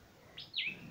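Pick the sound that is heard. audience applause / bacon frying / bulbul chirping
bulbul chirping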